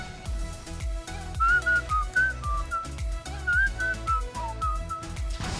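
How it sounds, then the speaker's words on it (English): A person whistles a short tune in clear, wavering notes over rhythmic background music with a steady thumping beat. "I know my whistling is actually out of sync with the music."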